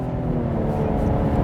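A 2020 Cadillac CT5-V launching hard from a standstill gives off a loud, steady engine roar that stays constant through a short stretch, with no voices.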